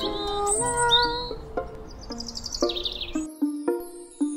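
Birds chirp and twitter in a fairy tale scene, several bright calls and whistles rising and falling against soft music-like tones, fairly close and lively throughout.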